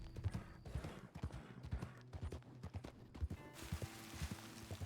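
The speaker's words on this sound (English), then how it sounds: "My horse is so upset." Horse hooves clip-clopping in an irregular, uneven rhythm in a role-play video game, with a possible brief whinny near the end and quiet background music.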